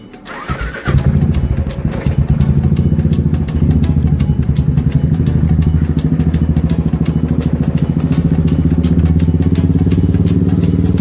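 A motorcycle starts up at home for the day's ride: a brief fumble and crank, then the engine catches and settles into a loud, steady, rapidly pulsing idle close by for about ten seconds.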